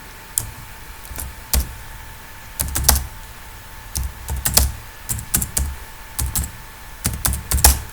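Someone types on a computer keyboard to enter data in Stata, producing close, crisp key clicks in irregular bursts separated by short pauses, with no talking.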